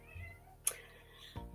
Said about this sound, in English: I know you can probably hear my cat crying in the background.